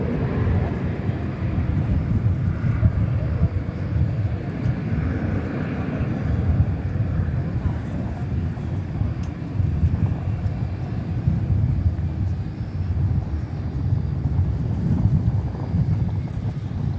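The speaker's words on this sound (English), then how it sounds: "You may have heard the clear for takeoff given even as that plane was just lifting off the runway." Jet airliner taking off from runway 18 Left at DFW Airport, a loud sustained engine roar with wind buffeting that swells and holds throughout.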